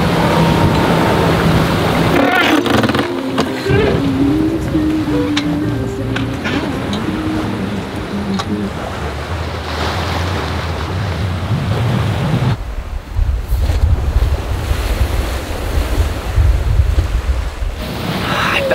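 Wind roars and waves rush past a sailboat heeled far over in a shifting breeze, a loud and steady blend of gusts and surf with buffeting on the microphone throughout.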